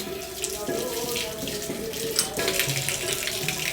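Water runs steadily from a tap as hands are washed during a Ramadan visit to a dargah, a continuous close splashing with slight shifts as the hands move under the stream.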